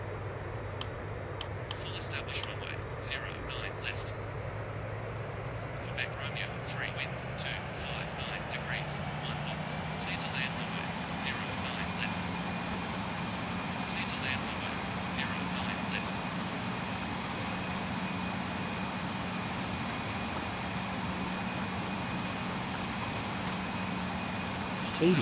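A Boeing 737-800BCF freighter's jet engines spool up during the takeoff roll with a steady, rising drone, heard from inside the aircraft. A continuous low rumble carries faint voices and clicks over it.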